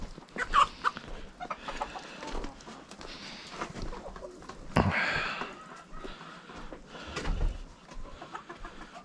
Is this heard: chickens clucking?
yes